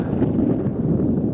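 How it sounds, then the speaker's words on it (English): Gusty wind blows on a coastal walk by the enclosed bay at Port Soif, Guernsey, a loud, steady rush buffeting close to the microphone throughout. "And that wind's picked up."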